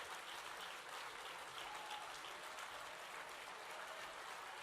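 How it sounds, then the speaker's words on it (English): Audience applause at a gala honoring school staff, a steady wash of many hands clapping from across a large hall, fairly distant and even in level, without a pause. "Let's give them a round of applause to our YTCTE staff."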